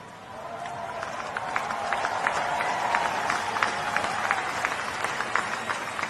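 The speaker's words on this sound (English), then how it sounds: "Literally just a tiny golf applause" Thin, sparse clapping from a small crowd at a military birthday parade speech, individual claps spaced irregularly and fairly distant over a steady outdoor murmur.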